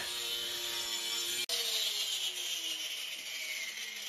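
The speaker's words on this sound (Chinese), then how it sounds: "一定要把这个角磨机给它掐住了，它跑了那事儿大了" An angle grinder cuts through a bathroom cabinet, giving a steady high whining drone with a brief dropout midway, then a slowly falling pitch as the cut continues, fairly quiet and with no voices.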